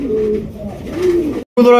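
Pigeons cooing close by, several soft throaty coos rising and falling, then a brief gap before a louder, brighter burst of calls.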